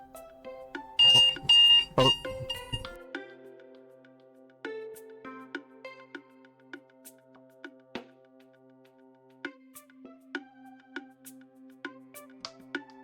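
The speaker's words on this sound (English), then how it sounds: "That's my alarm." A phone alarm from the Alarmy app goes off indoors, starting with a loud burst of chiming tones, then continuing as a quieter repeating melodic beep pattern. A brief exclamation is heard.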